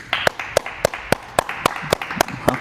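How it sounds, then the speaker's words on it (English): A small group claps for a podcast guest, with about ten sharp, evenly spaced claps heard close up over roughly two and a half seconds. "let's go ahead and do a little applause for our guest today"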